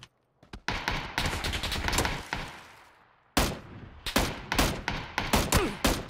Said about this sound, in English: Where the fuck are they shooting from?